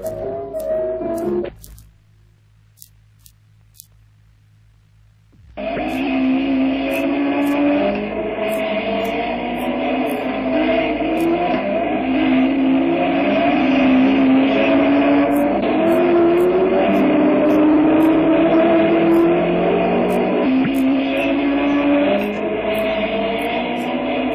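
Several race car engines roar loudly as the cars start and accelerate at a race start at the Charade circuit in Auvergne, a sustained, rising motor drone after a brief quieter pause near the start.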